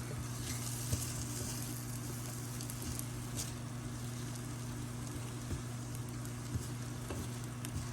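Chorizo and eggs sizzle steadily in a frying pan, a constant crackling hiss with occasional small pops and stirring scrapes, close and moderately quiet, with no talking.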